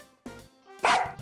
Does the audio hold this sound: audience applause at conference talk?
no